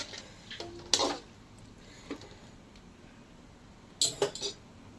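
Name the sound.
stirring mutton head curry with drumsticks in a pot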